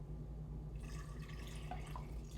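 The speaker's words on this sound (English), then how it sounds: "So next, I'm going to add my water." Water pours into cake batter in a mixer bowl, a steady trickling splash running close by with no talking.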